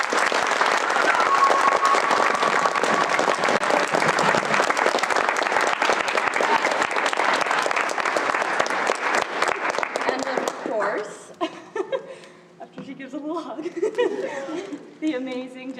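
A theatre audience at a children's stage production of The Velveteen Rabbit gives loud, sustained applause with cheering for about ten seconds, then the clapping thins out and voices take over.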